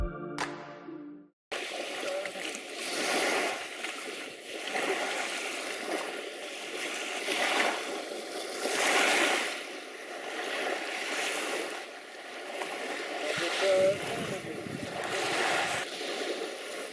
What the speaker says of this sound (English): it was time to get back in the dinghy and head home